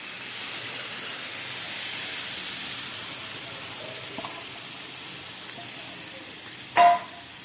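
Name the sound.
paneer paste added to spiced vegetables frying in a pan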